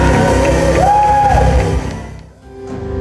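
Audience at a charity mini concert for orphanage children cheering and shouting loudly, with whoops and a rising voice over the crowd before the noise drops off briefly and swells again.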